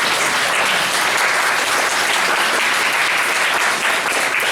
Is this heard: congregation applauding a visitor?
yes